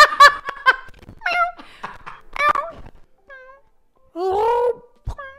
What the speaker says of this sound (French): Pourquoi mon chat il roucoule?